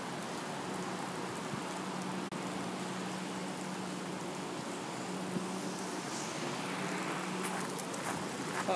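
Steady rain pours throughout in a video game, a dense, even hiss of drops on the ground that stays constant and close, with no talk over it.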